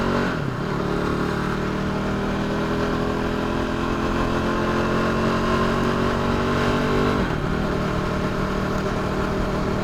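A sport motorcycle engine drones loudly and steadily on a cool Sunday morning ride, with the pitch sliding gradually and a brief dip and recovery in the revs.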